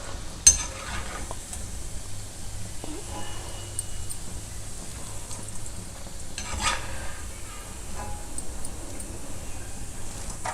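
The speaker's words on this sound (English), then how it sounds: "Patiently fry it over a low flame." Vella Seedai, a sweet rice-flour snack, frying slowly in oil over a low flame: a faint, even bubbling sizzle with occasional light taps and stirring clicks, close but quiet.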